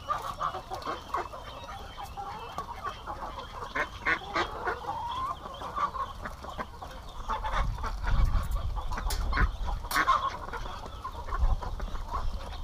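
Farm poultry of ducks, geese, chickens and turkeys: a flock calls continuously, with honks, quacks and clucks overlapping at moderate loudness and a few nearer, louder bursts.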